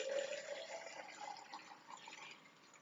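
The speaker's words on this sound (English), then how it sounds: "Next, you're going to take all this hot water," Hot water is poured from a kettle into a coffee press holding freshly scooped coffee grounds, giving a steady close splashing pour that tapers off over a few seconds.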